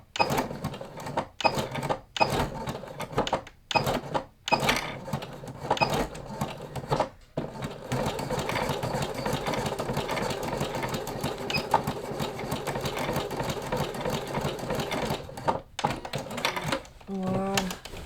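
A sewing machine runs in bursts and then a long steady stretch as it topstitches a pair of Persephone trousers, a rapid mechanical whirring close by with short pauses between runs and occasional quiet talk.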